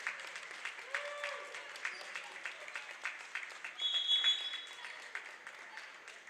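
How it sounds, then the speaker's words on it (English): Crowd in a gym applauds seniors checking out late in the fourth quarter of a high school girls basketball game, steady scattered clapping through the whole stretch with a brief whistle and squeak. "And the crowd gives a hand to the Fort Lee seniors as most of them check out."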